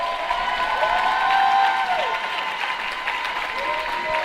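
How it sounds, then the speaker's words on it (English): Crowd at a swing dance competition event applauds and cheers in a steady, moderately loud wash, with a voice and a whooping tone rising briefly over the clapping. "Big applause"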